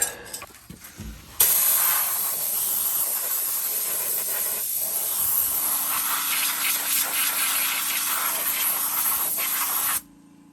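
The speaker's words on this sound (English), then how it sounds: "Let me go get my air hose and blow this out a little bit first." Compressed air hose blasting out the brake wheel cylinder area of a vehicle, a loud steady hiss of air that runs unbroken for about eight seconds before cutting off sharply, close by with no talk.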